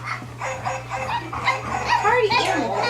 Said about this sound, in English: That's the doggy barking part.